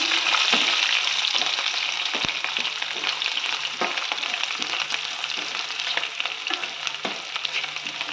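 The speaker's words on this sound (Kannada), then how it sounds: "ಇಲ್ಲಿ ನೋಡಿ, ಬೆಳ್ಳುಳ್ಳಿ ಹಾಕ್ಕೋತಾ ಇದ್ದೀನಿ, ಅದನ್ನು ಈಗ ಫ್ರೈ ಮಾಡ್ಕೊಳ್ಳೋಣ." Garlic frying in a pan for a crispy poha chivda snack gives a steady, loud broadband sizzle throughout, with scattered light clicks of stirring and no voices.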